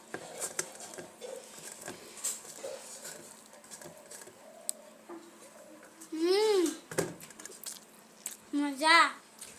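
Chewing and eating a home meal of rice and fish curry with sour ou tenga dal, with soft mouth and patter sounds close by, mixed with short bursts of talking and a couple of loud tonal swoops later on.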